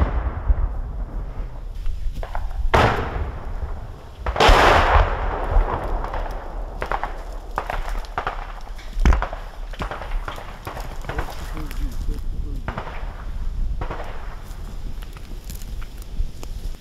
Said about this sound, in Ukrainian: Чуєте, стріляють.